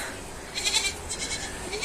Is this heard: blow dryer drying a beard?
no